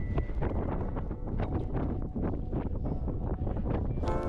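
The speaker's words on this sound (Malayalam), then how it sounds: "മുടിഞ്ഞ കാറ്റ്, സീ കാറ്റ്." A strong sea wind on the rural northern coast of New Zealand buffets the microphone in heavy, rumbling gusts that keep going without a break.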